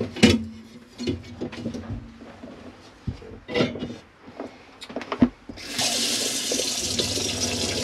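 Hot water running from the tap of a Chausson Welcome Premium 530 caravan: scattered knocks and clunks at first, then a steady hissing stream of water starts and keeps flowing close by.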